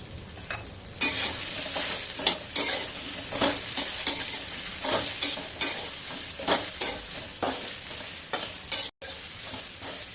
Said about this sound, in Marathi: मीठ टाकून परतून घ्या